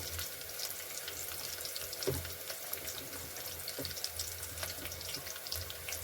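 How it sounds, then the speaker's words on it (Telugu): Chopped onions fry lightly in a pan as the first step of tomato rice, giving a soft, steady sizzle and crackle that stays faint and unbroken throughout. "ఆనియన్ కొంచెం ఫ్రై కావాలండి."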